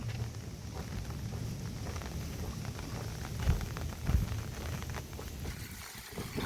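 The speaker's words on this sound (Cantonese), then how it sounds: "落雨落到而家未停過， 不過好在而家唔係大雨。" Light, steady rain falls on the Mount Parker Road hiking trail in Hong Kong, a faint, even patter mixed with soft wind, with no one speaking.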